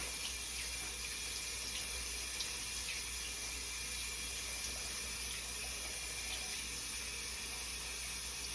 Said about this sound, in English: And then I'm gonna rinse it off.